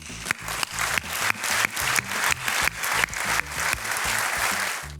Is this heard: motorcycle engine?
no